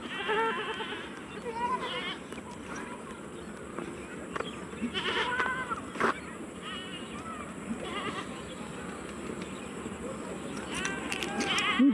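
Several goats bleat repeatedly at close range, wavering calls recurring through the clip amid voices and rustling noise.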